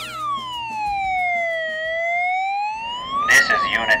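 An Audi A8L security system siren wails loudly and nearby in one long, smooth rise-and-fall sweep, with a burst of clatter near the end.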